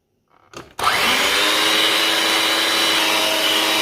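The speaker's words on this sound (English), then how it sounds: "I'm mixing the egg and the sugar. I'll continue to whisk until it becomes fluffy." Egg and sugar being whisked for a carrot cake batter: a loud, steady whirring drone starts abruptly after a brief rustle and continues without break.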